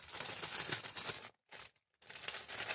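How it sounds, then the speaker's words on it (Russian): A small packet of thermal paste from a Chinese X79 LGA 2011 motherboard kit crinkles loudly and continuously in the hands, with a brief pause of near silence in the middle before the crackling resumes. "Такой вот пакетик термопасты"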